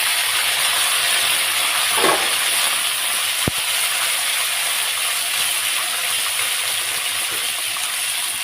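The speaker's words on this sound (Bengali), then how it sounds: "আর এখন ডাঁটা একদম কচি তো, অল্প একটু হালকা তেলের মধ্যে ভেজে নেব।" Tender drumstick stems fry in a little hot oil. A steady, loud sizzle fills the whole stretch, with one sharp clink partway through.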